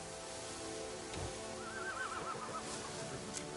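A horse whinnies once in the video game Crimson Desert, a wavering neigh over a steady hiss of rain-like background noise.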